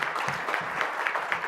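Audience applauding at a charity sector treasurer's breakfast event, a steady wash of many hands clapping throughout, moderately distant with no voices on top.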